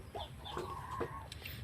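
A native chicken clucks in short, close bursts across a brief moment, with some faint background noise and no speech.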